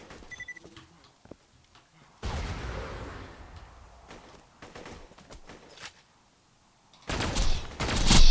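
Distant gunfire in Borderlands 3, with bursts of shooting and impacts arriving in uneven clusters, louder near the end, set against quiet stretches of footsteps and ambient game noise.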